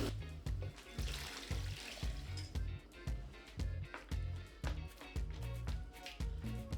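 Warm water is poured into a cooking pot while making Jamaican cow foot, coming in as a series of rhythmic splashing gushes, roughly two per second, close and fairly loud with no talking.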